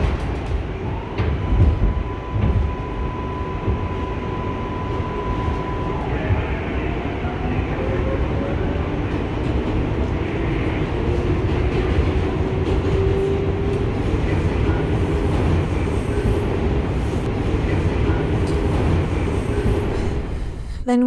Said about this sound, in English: listening to the sounds of the subway